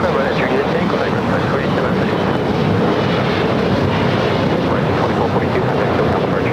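A Boeing 767 airliner landing at LAX gives a loud, continuous broadband engine roar that holds steady throughout, thick and rumbling with no clear breaks.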